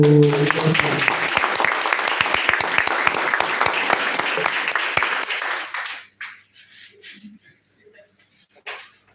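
Applause rises from an audience at a live-streamed business event, a dense burst of clapping that holds steady for several seconds, then breaks off abruptly into sparse claps and quiet.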